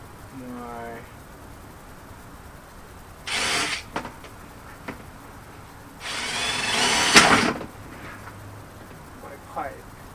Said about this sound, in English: I'm going to drill a couple holes here at the top